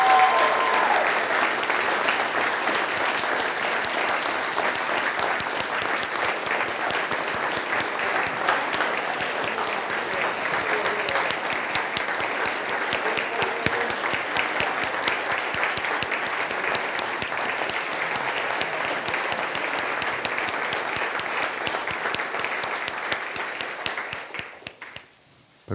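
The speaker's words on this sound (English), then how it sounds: "Could we offer him a round of applause?" A large audience gives a long, sustained round of applause for a dean at a theological school community supper, dense and even for about twenty-four seconds before fading out at the end.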